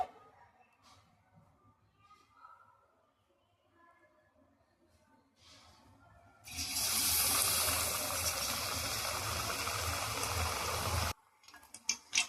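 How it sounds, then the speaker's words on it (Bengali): Battered eggplant fritters drop into hot oil and set off a loud, steady bubbling hiss that lasts several seconds and then stops. Quiet, faint talk comes before it. "আমি সর্ষের গুঁড়িগুলো ভেজে নেব সেম প্রসেসে"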